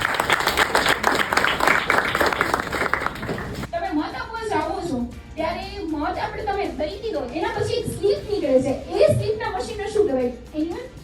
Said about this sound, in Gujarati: તમારા માટે જોરદાર તાળીઓ થાય છે